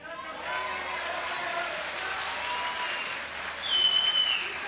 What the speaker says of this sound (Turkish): Çok güzel miydi de alkışlıyorsunuz?